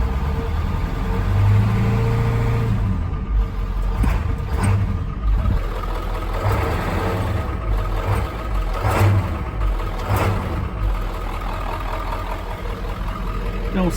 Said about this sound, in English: Yeah, she's missing. Some injectors are not working.